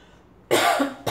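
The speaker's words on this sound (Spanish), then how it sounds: "todavía ando con un poquito de tos" A single sharp, close cough bursts out of near silence, followed a moment later by the start of a second cough.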